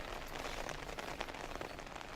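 Steady rain falls in a backyard in eastern North Carolina, a dense, even hiss of drops hitting surfaces that continues throughout with no voices.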